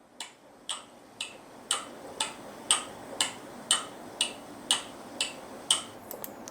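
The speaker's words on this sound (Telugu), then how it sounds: "ఒక గడియారంలో ఆ ముళ్ళు తిరుగుతుంటే దానికి సంబంధించిన సౌండ్." AI-generated ticking of clock hands, about a dozen crisp, evenly spaced ticks at roughly two per second, close and fairly quiet, alone without other sound.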